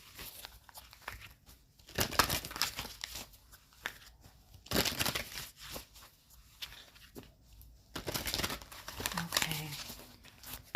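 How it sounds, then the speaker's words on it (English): An oracle card deck being shuffled by hand, soft papery riffles and crinkling swishes in bursts separated by pauses, close and fairly quiet. "Let's just give it a little shuffle."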